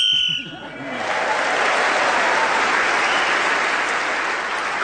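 A whistle sounds to end a contestant's turn in a panel game, then loud, sustained applause from a studio audience swells and carries on to the end.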